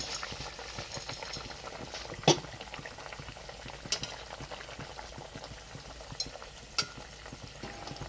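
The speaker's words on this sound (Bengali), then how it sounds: "এখন রাত্রে রান্না হচ্ছে দই সর্ষে ইলিশ" Doi sorshe ilish, hilsa fish in a yogurt-mustard sauce, bubbles and sizzles steadily in a pan at night, with a few sharper clinks and stirring sounds standing out from the constant simmer.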